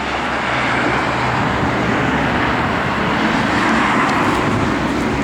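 A 1967 Chevrolet Chevelle SS drives down the road with a loud, steady rush of engine and tire noise that holds constant throughout.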